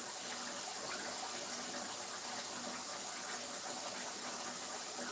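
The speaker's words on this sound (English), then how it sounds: "first I just hit it with cold water. And let it run out the hot water over time" Cold tap water runs steadily into a kitchen sink over eggs, a constant broadband gush with no breaks, moderately close and alone.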